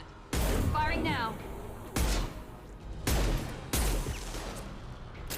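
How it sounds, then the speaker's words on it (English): Gunfire in the video game Mass Effect: four heavy, booming shots ring out at irregular intervals, each with a long reverberant tail, while a voice talks over them. "Firing now."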